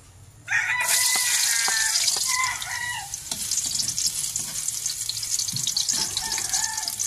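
Loud, steady frying sizzle of garlic in oil bursts in suddenly and continues throughout, a bright crackling hiss with occasional pops and spatters close up.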